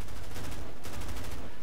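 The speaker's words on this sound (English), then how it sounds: "I have some teammates shooting shit at me" Sustained gunfire in the Medal of Honor PC open beta, teammates shooting in a dense, continuous burst of rapid shots with a brief dip midway, loud and without speech.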